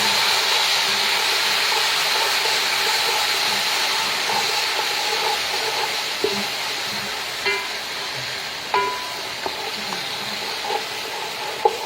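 Garlic ginger paste sizzles steadily in hot oil for Sindhi biryani, a close, continuous frying hiss with a few soft clinks of stirring near the end.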